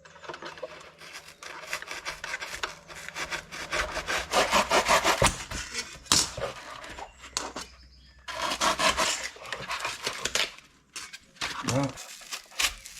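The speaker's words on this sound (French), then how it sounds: "va falloir que je vienne avec une scie à métaux et puis des cutters. Je viens enlever ce qui dépasse là" A hacksaw cuts off excess material during work on a C20XE engine's air intake: steady back-and-forth strokes come in two long, close bursts with a brief pause between, rasping and loud.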